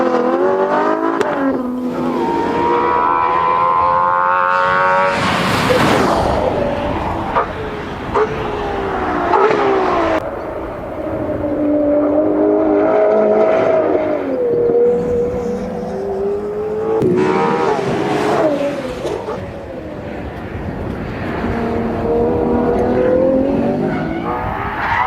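A Ferrari 812 Competizione's V12 revving hard on track through repeated gear changes, with rising and falling engine howls, close and loud, broken by short lifts and tyre squeal.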